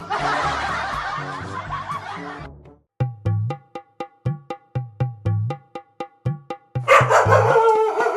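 Village dogs bark in a quick, sharp series of about a dozen yaps, fairly close, framed by bursts of laughter at the start and end.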